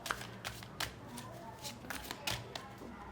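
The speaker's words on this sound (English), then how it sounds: "I feel like pulling out another card for pile 2 collective" Tarot cards are shuffled by hand at close range, giving a steady papery riffle with a few sharper slaps and taps, heard on its own with no talking.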